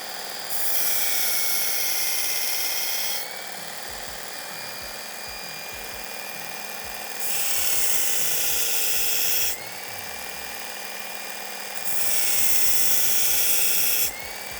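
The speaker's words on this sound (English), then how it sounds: "I can reestablish these grind bevels just by coming in here and freehanding that secondary bevel" A knife's secondary bevel ground freehand on a powered grinder gives a loud, steady whine that lifts into a harsher hiss during three contact passes, alone with no talking.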